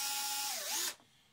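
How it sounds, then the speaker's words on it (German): A power drill with a 6 mm wood bit bores a hole in wood, a steady high whine that dips in pitch as it bites, then stops abruptly. "Jetzt fange ich an, ein Loch zu bohren"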